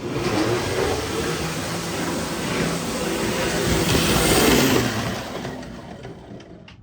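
A postwar Lionel New York Central model train rolls steadily past up close, a continuous rumbling whir of small motor and wheels on track that swells louder midway and then fades slightly.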